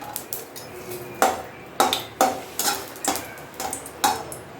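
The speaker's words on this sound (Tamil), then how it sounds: "கொஞ்சமாக எண்ணெய் ஹீட் ஆயிடுச்சு. நான் மிளகாய் சேர்த்துக்கிறேன்." Chilies dropped into a small amount of hot oil for garlic tomato chutney crackle and spatter, with a series of sharp clinks of a utensil against the pan at a steady, uneven pace, close and clear without talk.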